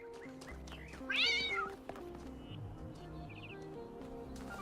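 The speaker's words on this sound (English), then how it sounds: "This cat is terrified of us." A cat meows in The Talos Principle 2 video game, a clear rising-falling call over a steady musical game soundtrack, with a faint chirp afterward.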